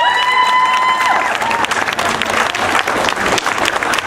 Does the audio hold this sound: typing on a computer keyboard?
no